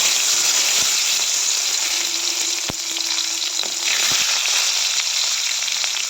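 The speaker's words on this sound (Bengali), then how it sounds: "রবিবার দিন সকাল তেলে একটু পাঁচফোড়ন দিলাম" Panch phoron spices fry in hot oil with a loud, dense, continuous sizzle and crackle close by. A few sharp ticks and a faint hum sit beneath it.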